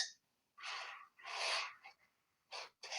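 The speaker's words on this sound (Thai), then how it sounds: "เสียงลมหายใจหอบรวดเร็ว" Several quick, heavy breaths in and out, close and breathy, in an uneven panting rhythm with brief pauses between.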